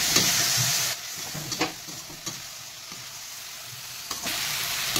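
Spice paste (masala) frying in oil in a pan for a fish curry, a loud steady sizzle broken by a few spoon scrapes, fading to a quieter hiss in the middle before swelling again.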